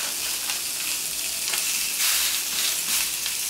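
Burger meat sizzles in a hot pan, a steady close frying hiss with brief louder crackling bursts, no one speaking.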